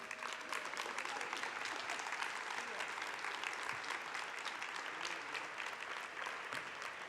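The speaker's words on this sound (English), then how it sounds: "You could clap." An audience at a luminary ceremony applauds, producing a continuous, even wash of clapping from many hands that carries at a moderate distance for the whole stretch.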